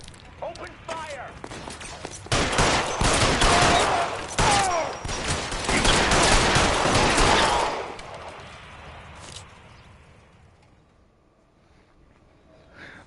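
Gunfire from the video game LA Noire: a dense burst of rapid shots in a heavy, noisy volley that fades into quieter trailing sounds, with voices speaking over the start.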